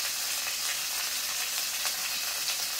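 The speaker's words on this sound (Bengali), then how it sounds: "দিয়ে এবার সব মশলাগুলো কিন্তু সুন্দরভাবে কষিয়ে দেবো" Ground cumin, coriander and dried chilli pastes with turmeric fry in hot oil for chicken malai curry, making a dense, even, close hiss of sizzling that runs without a break.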